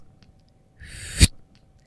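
A voice imitates a short, quick hapé tobacco snuff blow, a breathy hiss swelling briefly and ending in a sharp, close puff, alone in a quiet room.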